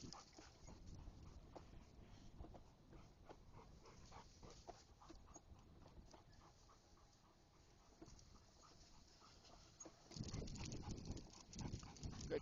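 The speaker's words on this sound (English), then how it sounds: "that's a tired dog." Dog tired after a ball run at a park, panting and moving about close by as a steady rhythmic breathing and scuffing under faint outdoor noise, growing louder near the end.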